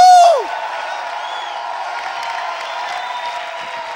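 A church congregation at an evening family worship service applauds and cheers, a dense, continuous wash of clapping and crowd noise that holds steady and loud throughout after a brief opening tone.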